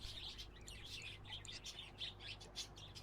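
Several small birds chirp and tweet in quick, overlapping bursts inside a pet shop simulator game, a soft, steady twittering heard alone at low volume.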